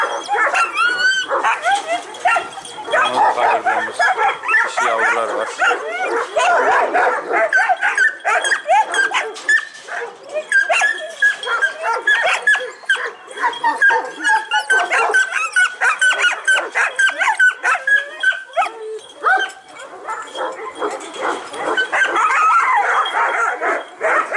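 Kangal dogs on a breeding farm bark steadily and loudly, with a lively female puppy yipping and whimpering among them. Voices talk underneath in places.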